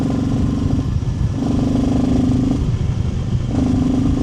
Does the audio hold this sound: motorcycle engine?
yes